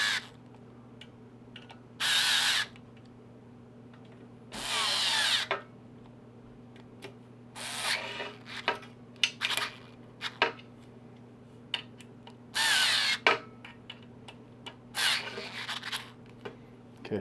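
Power drill driving bolts on a BLT hybrid in a cross pattern, with several loud whirring bursts of a second or so each, separated by quieter scraping and tapping handling sounds and a steady background hum.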